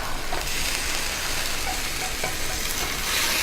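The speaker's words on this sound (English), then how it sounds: "Now we're gonna add our reserved beef." Reserved beef being added to a boiling pan of broccoli and chicken broth, giving a steady loud bubbling sizzle with faint stirring clatter, close up and without talk.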